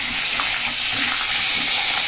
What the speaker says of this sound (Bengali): আর এই দেখো ইঁচড়টা কিন্তু এখন ভেজে নেব।